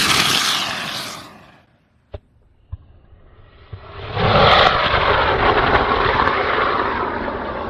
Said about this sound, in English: And here is rocket-propelled Nerf dart. Turn on the ignition.